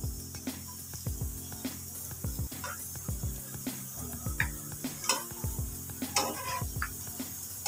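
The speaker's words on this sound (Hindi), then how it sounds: "बहुत ही ज़बरदस्त फ्राई हो रहे हैं और बहुत प्यारी खुशबू आ रही है" Noodle pakoras deep-frying in hot oil, a steady close sizzle broken by repeated clinks and scrapes of a utensil stirring and turning them in the pan.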